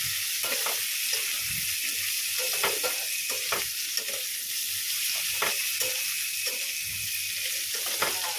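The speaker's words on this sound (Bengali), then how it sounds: "নুন হলুদ দিয়েছি লাল লাল করে ভাজবো" Elephant foot yam curry frying with salt and turmeric in a pan on a gas stove, a continuous bright sizzle broken by irregular stirring scrapes and knocks.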